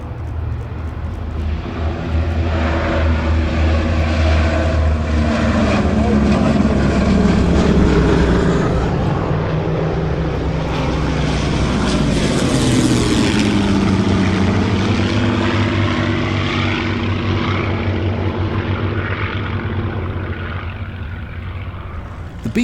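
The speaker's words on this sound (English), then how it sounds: "The Mustangs were followed by an aircraft the P-51s would escort on bombing missions over Germany," A Boeing B-17 bomber flies past with loud, continuous propeller drone that swells as it approaches, peaks, and fades away with a pitch shift, with no talking.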